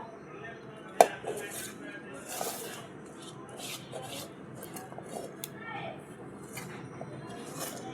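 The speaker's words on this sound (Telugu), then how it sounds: "టమాటా ముక్కలు కూడా వేసుకొని దంచుకుందామండి" Dried red chillies, rock salt and tomato pieces pounded in a stone mortar, giving faint, irregular thuds and grinding scrapes with one sharper knock near the start, fairly close and quiet throughout.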